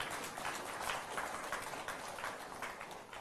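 Audience applause at a live university talk, a steady wash of many hands clapping at moderate distance, fairly soft and even throughout.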